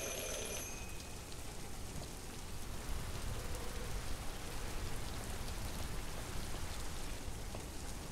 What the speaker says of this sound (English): I love the sound of rain, even when it's fake.